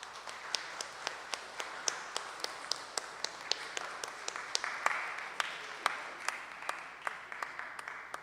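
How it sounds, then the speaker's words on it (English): Audience applause at an opening ceremony, heard as a broad, fairly faint wash of clapping from a distant crowd with distinct louder claps sounding at regular intervals throughout, and no speech over it. "please join me in giving a warm round of applause"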